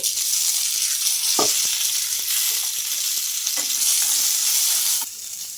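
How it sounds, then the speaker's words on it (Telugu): Tomatoes and green chillies fry in hot oil with cumin, giving a loud continuous close sizzle with a few scraping stirs and clinks of a spoon against the pan. "ఇంకా మనకు టమాటో అలాగే పచ్చిమిర్చి బాగా మగ్గే వరకు అయితే ఫ్రై చేసుకోవాలి"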